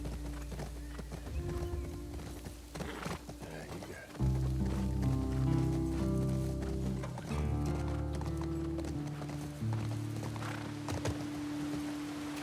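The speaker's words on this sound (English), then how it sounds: "The galloping horse through the fields of grain, as the fields of tall grass, as they wave before the horse's feet." Horse galloping through tall grass in The Last of Us Part II, rhythmic hoofbeats close and steady throughout, layered under a sustained musical score.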